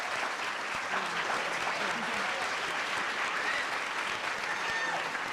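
Steady applause from a crowd at a college entrepreneurship competition, clapping densely and continuously at moderate volume throughout.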